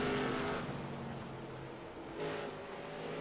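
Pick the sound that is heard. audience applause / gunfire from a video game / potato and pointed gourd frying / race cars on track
race cars on track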